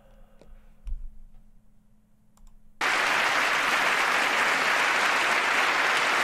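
Sustained applause from a large audience at a State of the Union address bursts in abruptly after a few quiet seconds of faint clicks and rustles, then holds as a dense, even roar of clapping.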